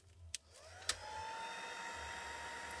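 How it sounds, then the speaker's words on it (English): Handheld embossing heat tool drying heat-embossed cardstock for an emboss-resist water-lifting card: a few soft clicks, then a steady close whirring blower hum that runs on without a break. "I'm just going to take my heat tool and"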